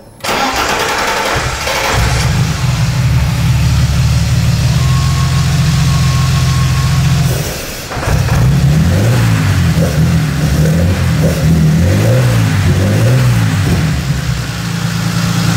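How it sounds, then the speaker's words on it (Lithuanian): A BMW E30 engine cranks and catches, settling into a steady loud idle, then after a brief dip it is revved repeatedly in rising and falling swells, close and dominant with no talk. "Užveda mašiną."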